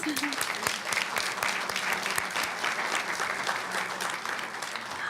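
An audience at a school board reception in the evening gives a steady round of applause, many hands clapping together at moderate volume with crowd murmur beneath.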